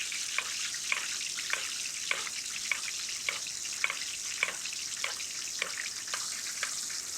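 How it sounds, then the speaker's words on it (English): Dover sole fries in a pan while it is basted, under a steady sizzle with regular spoon clicks about every half second, close and moderately quiet. No talking. "You notice I like to do this basting. Helps accelerate the cooking process."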